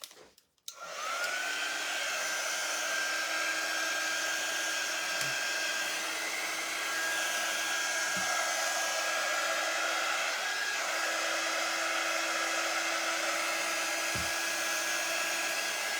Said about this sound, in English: I'm going to go ahead and use my heat tool to dry the paste I just put on.